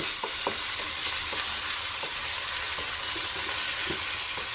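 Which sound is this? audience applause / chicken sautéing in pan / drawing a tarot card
chicken sautéing in pan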